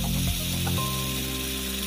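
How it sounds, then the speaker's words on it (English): A rattlesnake shakes its tail rattle, making a steady, dry hissing buzz that runs continuously for about two seconds over a faint tonal hum. "That is the sound of the tail"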